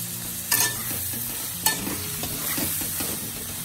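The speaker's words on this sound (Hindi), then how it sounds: "पियाज कंचा लंका अदा रसुण सब पकई टिके तेल देकी फ्राई करना" Onion, green chilli, ginger and garlic frying in oil, a dense continuous sizzle close up with two sharp spatula knocks and some stirring scrapes, no talk.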